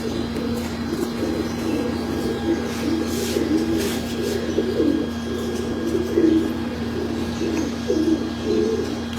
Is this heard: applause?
no